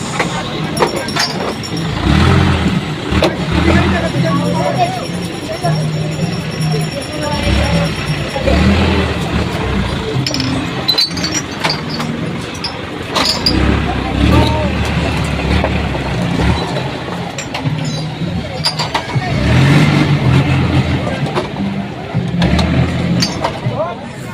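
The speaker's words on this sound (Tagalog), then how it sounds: "Pang walong truck na yan guys." A delivery truck bringing tuna idles and rumbles with a low engine drone beneath almost constant nearby talking, with occasional clinks and louder bursts of street activity.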